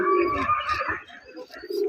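A pigeon in a house coos in a few close, throaty warbling phrases that fill most of the moment, with a short lull partway through and no talk.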